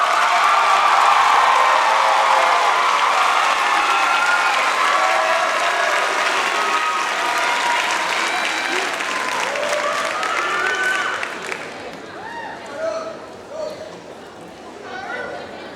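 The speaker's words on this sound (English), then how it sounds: "Celebration with a brief applause" A large audience applauds loudly at a graduation ceremony. The dense clapping goes on for about eleven seconds, then thins out into scattered claps and crowd chatter.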